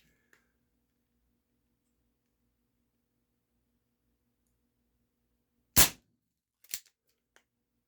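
A Barra 1858 Cowboy BB pistol fires one sharp, loud shot that cuts through a near-silent background. A quieter snap follows a moment later, then a faint tick.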